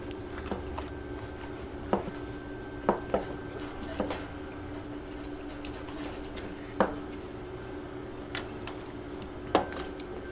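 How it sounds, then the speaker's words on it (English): A knife cuts meat into bite-sized cubes on a board, with sporadic sharp taps and chops spread irregularly over steady quiet room noise, close and fairly soft. "we'll just come across and make some solid bite-sized cubes"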